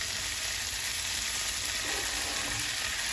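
Lemon-pepper seasoned food fries in a pan, giving a steady, dense sizzle that stays even and close throughout, with no voices.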